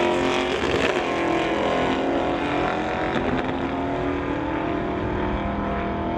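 Drag race cars, one a 1991 Chevy, roar at full throttle in an eighth-mile race, a loud continuous engine blare with rising pitch that fills the whole stretch without any voices.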